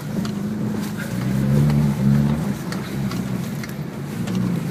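A car driving, its engine humming steadily with a slight rise and fall in pitch, close and loud with no talking.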